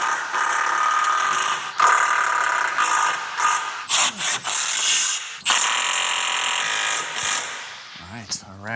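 A ratchet tightens a steering rack bolt on a Kia Stinger GTS, sending out loud, close, rapid clicking runs in several bursts separated by short pauses, with a voice heard briefly.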